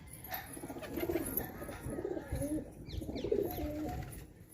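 A domestic pigeon held and hand-fed a clove coos in low, rolling phrases, close by and repeated several times over steady background noise and handling rustle.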